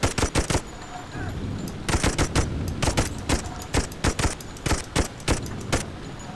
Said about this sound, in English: these are machine gunners